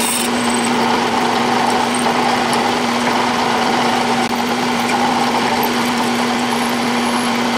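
An Atlas lathe feeds a 5/32 drill about 3/4 inch into a cast iron vise part, giving a steady close motor whine with a constant hum and faint scraping throughout.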